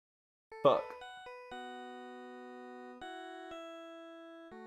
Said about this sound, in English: Wait, that's his phone.